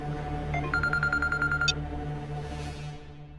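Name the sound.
mobile phone ringing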